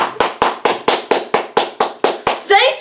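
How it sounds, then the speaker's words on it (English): About eleven evenly spaced hand claps sound loud and close in a steady rhythm. A short burst of voice follows at the end. "Thank you, disembodied clapping noise."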